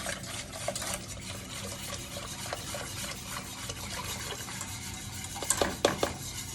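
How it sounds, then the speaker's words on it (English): Milk is whisked into caramel in a pot for butterscotch pudding over low heat, making rapid, rhythmic metal scraping and light clatter under a faint sizzle, close and steady, with louder knocks near the end. "I'm gonna whisk in my milk."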